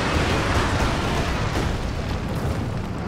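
Werfer rocket artillery strike in Company of Heroes 2, a dense, continuous roar of rumbling explosions and bursts filling the whole stretch at steady loudness, with no talk over it.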